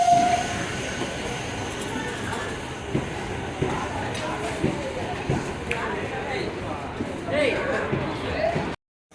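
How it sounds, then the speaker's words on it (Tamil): A Villupuram–Tambaram MEMU express train rolls into platform 6 with rumbling wheels and clanking carriages, occasional squeaks, and voices murmuring in the background. "விழுப்புரம் தாம்பரம் மெமு எக்ஸ்பிரஸ் தாங்க பிளாட்ஃபார்ம் நம்பர் 6 அரைவல் ஆகுதுங்க."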